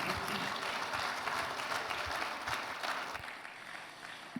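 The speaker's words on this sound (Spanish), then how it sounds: "denle un fuerte aplauso al Señor" Applause fills a church service, a steady wash of many hands clapping at moderate distance, easing slightly toward the end.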